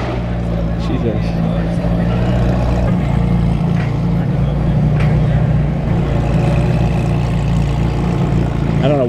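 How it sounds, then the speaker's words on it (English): A loud exhaust rumbles steadily at a Florida car meet, with a deep droning engine note filling the background while people talk over it throughout. "I don't know what exhaust is on that car, but there's something loud as hell on that thing."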